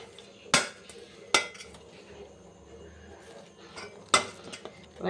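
Metal pots and vessels being handled and set down in a kitchen, with several sharp clanks and clinks spaced out over a few seconds and quiet shuffling between them, fairly close and with no talking.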